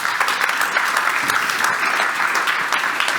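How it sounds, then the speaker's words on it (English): Applause from an audience at a high-level European defence policy event, a steady, dense clapping that fills the room without pause and with no voices over it. "Can we give a round of applause?"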